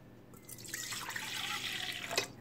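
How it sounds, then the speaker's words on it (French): Lukewarm milk pours steadily into the kneading bowl of a bread machine, a soft continuous liquid rush lasting about two seconds with a slight splash toward the end. "je vais mettre le lait tiède"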